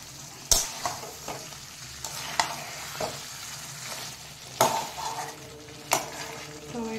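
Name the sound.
curry being sautéed (kosha) in a pan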